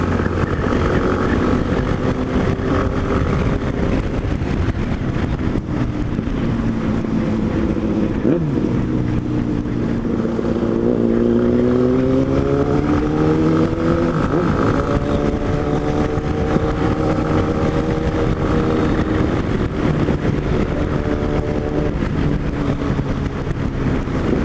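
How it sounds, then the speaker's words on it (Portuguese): A four-cylinder motorcycle, likely a Yamaha Ténéré, roars steadily for a long stretch with rising and falling engine pitch and heavy wind rush, loud and close, with no voices. "o ronco da moto 4 cilindros é inconfundível"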